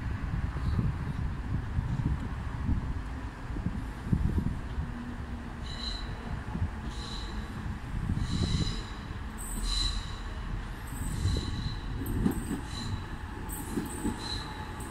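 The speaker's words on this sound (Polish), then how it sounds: "Wjeżdża pociąg osobowy relacji Żywiec Katowice." A Żywiec–Katowice passenger train pulls into the station with a low continuous rumble, then a run of sharp, high wheel squeals recurring through the second half, fairly close and with no speech.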